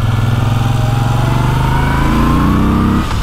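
A Moto Guzzi V7 III's Italian twin-cylinder engine pulses loudly and close, its throbbing exhaust note climbing in pitch as the motorcycle accelerates on a road in Italy, then easing off at the end.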